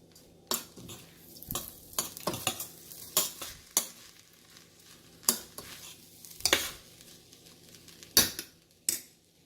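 A spoon scrapes and clinks repeatedly through basmati rice, mint and soya chunks with garam masala in a pan, giving irregular sharp metallic stirring strokes over a faint low sizzle, close and without voices.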